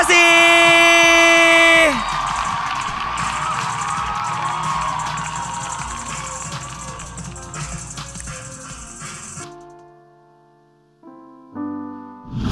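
A dance competition audience cheers and whoops for the dancers, a dense crowd roar over music that slowly fades, then gives way to a short musical sting.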